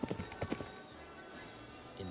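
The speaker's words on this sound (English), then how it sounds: "I think the horse is probably hating me." Horse hooves clip-clop in a motion comic, several sharp hoof knocks at the start, then a quieter sustained background before another soft thud near the end.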